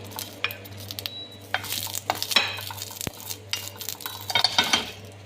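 Garlic and green chilies dry-roast in a frying pan without oil, with a close clatter of stirring and scraping against the pan over a light, intermittent sizzle.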